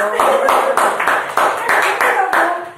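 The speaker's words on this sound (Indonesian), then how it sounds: "Ya tepuk tangan dong." An audience claps in time in a steady, near rhythm of sharp beats, with talk running over the clapping throughout.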